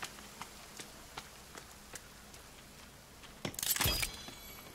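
Footsteps in the survival video game The Forest tap at a regular walking pace, then end in a louder, wet squishing burst near the end, all quiet and without talk.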